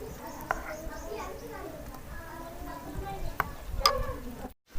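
Hot oil with finely chopped garlic, a tempering for pumpkin raita, crackling and sizzling in quiet bursts with a few sharp pops, while someone talks over it.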